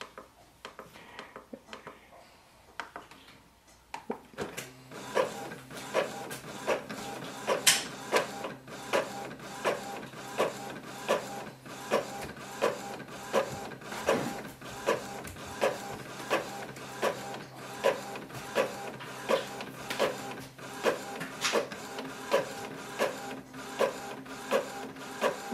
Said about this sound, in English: So I'm just going to print this page.